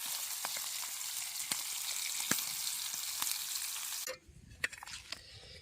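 Pieces of tilapia fish sizzle and crackle steadily in hot oil in a pan, close by and fairly quiet, with scattered pops and a drop in the frying noise near the end.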